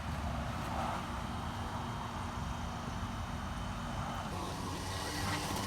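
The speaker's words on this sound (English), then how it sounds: "The Fury Custom Suburban Wagon is going." A Fury Custom Suburban Wagon moves off, and a steady engine rumble with broad road noise runs throughout, staying even and fairly faint at a distance.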